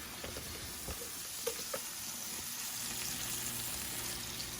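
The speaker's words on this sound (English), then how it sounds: "I'm about to flip the fish." Seasoned fish fries in a pan from a dollar-store meal, giving a steady close sizzle with occasional pops and crackles and no one speaking.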